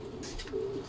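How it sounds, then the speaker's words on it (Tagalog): A racing pigeon gives a short, soft coo up close, a single low murmuring call over faint background noise. "Makulit yung ibon natin eh."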